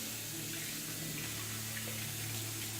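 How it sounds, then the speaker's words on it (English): Tap water runs steadily into a kitchen sink while canned beans are rinsed in a strainer, a continuous close hiss and splash with no talk over it. "So just rinse off any of that liquid."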